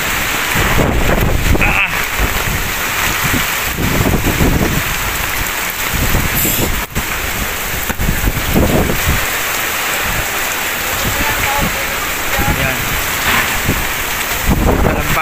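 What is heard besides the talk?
Super Typhoon Kristine wind and rain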